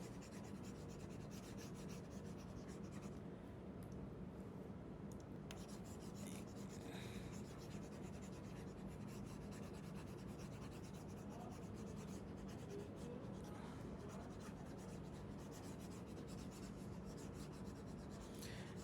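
Steady dry rubbing and scraping as written accounts entries are wiped off a board, a continuous close rasp lasting the whole stretch with no speech.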